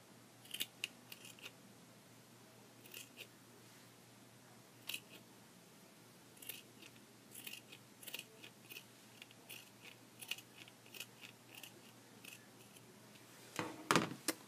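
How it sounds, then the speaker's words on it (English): Scissors snip through soft sock fabric while cutting doll clothing tops from inexpensive socks, a steady run of short, crisp close-up cuts with pauses between them and a louder cluster of snips near the end. "you're cutting down the heel to the spot on the toe"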